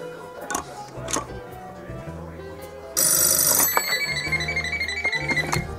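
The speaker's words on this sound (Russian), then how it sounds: "Вот он вот так звучит." An old rotary dial telephone's bell rings with a loud metallic trill that starts abruptly partway through, following quieter handling knocks and faint talk.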